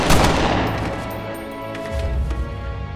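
A loud gunshot bursts out at the start, followed by a long, decaying rumbling echo and some clattering debris-like crackle, with no speech.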